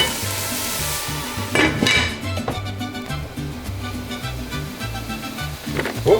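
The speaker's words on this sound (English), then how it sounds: "Okay, starting to sizzle." Vegetables for an enchilada casserole sizzle loudly in a hot frying pan, with a continuous crackling hiss close up and a few stirring scrapes and clatters partway through and near the end.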